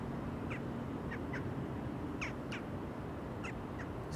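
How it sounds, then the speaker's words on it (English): Repeated bird calls, several short separate cries, over a steady low broadband hum at an Amsterdam Schiphol Airport livestream camera under a low cloud ceiling. "Is it just this bird that's making all the noise?"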